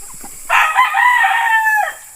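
A rooster crows once on a small farm, loud and fairly close, a long drawn-out call, with faint background farm noise before and after.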